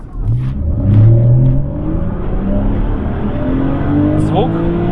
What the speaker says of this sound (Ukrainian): І відпускаємо педаль і ось цей ще тянущийся звук скидання обертів.